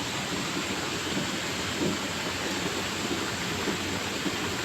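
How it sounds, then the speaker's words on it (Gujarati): Heavy rain pours down in a steady, dense roar that stays loud and unbroken throughout, with no voices. "એવો વરસાદ આવે છે જોરદાર"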